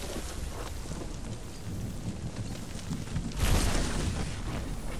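Video game storm ambience: a dense, continuous hiss of heavy rain with low rumbling thunder that swells louder about two-thirds of the way through, steady and immersive, with no talking.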